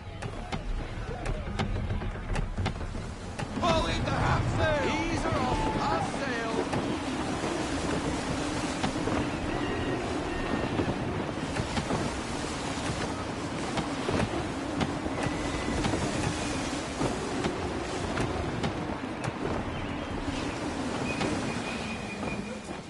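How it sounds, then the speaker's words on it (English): Gusty wind and rolling ocean waves while sailing a ship in Assassin's Creed 3, a steady broad rush of wind and surf that holds loud and constant, with creaks and other faint ship sounds on top. "Gusty winds can be difficult to manage"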